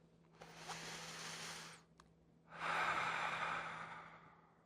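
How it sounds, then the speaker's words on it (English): A single deep breath, close and alone: a long drawn-in inhale, a short pause, then a fuller, louder exhale, over a faint steady hum. "Take a deep breath."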